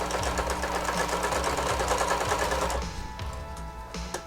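A sewing machine speed-stitches a harness, a fast steady mechanical chatter of the needle running continuously, then slowing and stopping near the end with a few faint clicks.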